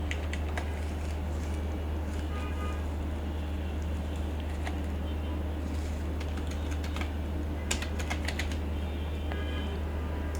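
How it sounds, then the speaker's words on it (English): Typing on a computer keyboard, close and continuous, with irregular bursts of light key clicks over a low steady hum, no talking. "I'm going to type in"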